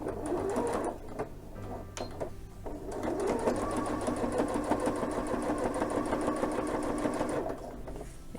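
A domestic sewing machine stitches folded fabric for a single fold welt pocket, starting with a few short bursts and then running in a steady, fast mechanical whir, close and alone.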